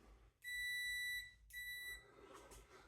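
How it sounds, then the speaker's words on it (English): Two loud, steady electronic beeps from a Kaiweets KM100 multimeter in continuity mode, each lasting about a second with a short gap between them, then fading into quiet room noise. "that's the sound you'll hear if you have continuity."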